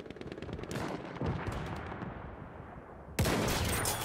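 Rifle gunfire in Battlefield 1 iron-sight sniper gameplay, with a rapid string of sharp shots at the start and a loud, close blast near the end, over battlefield din.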